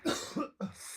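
Three sharp coughs in quick succession, close and fairly loud, the last followed by a lingering breathy tail.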